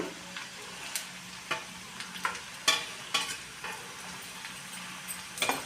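Green chili paste fries in a pan for egg biryani, a constant close sizzle broken by repeated sharp scrapes and clicks of stirring.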